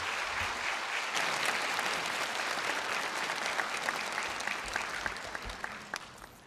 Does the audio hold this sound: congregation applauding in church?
yes